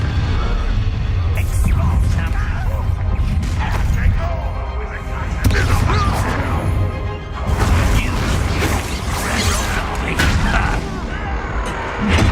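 Bombarda blasting-spell explosions in the Hogwarts Legacy video game, a dense run of booming blasts, crashes and thuds over continuous loud game audio, with voices mixed in.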